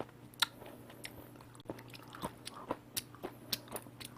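Someone chews a mouthful of boiled, seasoned sowthistle greens, making soft, irregular crunchy bites and squishes up close in a quiet room.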